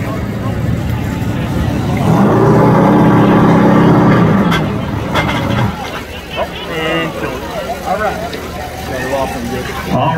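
Loud crowd cheering and roaring for the winner in victory lane of a Camping World Truck Series race at Lucas Oil Raceway swells around an idling engine, then fades into scattered shouts and murmuring voices.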